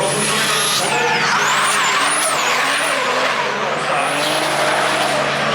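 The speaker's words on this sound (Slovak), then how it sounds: "A my už počujeme tam trieskať pneumatik." Race car tires screech loudly without a break during a PRO2 drift battle at Race the Streets Ostrava, wailing and bending in pitch over a constant roar of engines.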